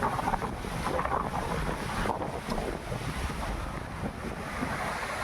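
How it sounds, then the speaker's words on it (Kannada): Strong wind roars steadily and buffets the microphone over a constant wash of surf at Kapu Beach, Udupi, during the monsoon, with no voices. "ಜೋರು ಗಾಳಿ ಬರೋದು"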